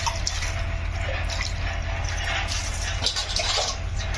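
A tap runs steadily into a sink while pomfret fish is washed and scrubbed, a constant close splashing stream with small drips and handling noises over it.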